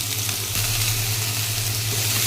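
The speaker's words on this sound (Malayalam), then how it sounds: "സവോളയും മുളകും കടുക് പൊട്ടിയതിന് ശേഷം ഇട്ട് കൊടുക്കുക" Onion and chili hiss and sizzle in hot oil with popped mustard seeds for an egg curry, a steady close frying crackle with light stirring and no talk.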